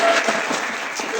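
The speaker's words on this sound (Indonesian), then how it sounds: "Tepuk tangan buat" A classroom group claps after a student presentation, a short burst of brisk, steady applause from a modest crowd.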